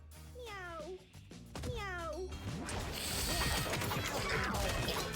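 Cartoonish cats in the video game Mewgenics let out two close, rising-and-falling meows, then break into a noisy scuffle of crashes, thumps and clatter that grows louder toward the end.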